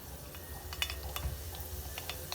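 Mustard seeds dropped into hot sesame oil for mango pickle, a low steady sizzle with scattered sharp crackles and light pops close by, no talk.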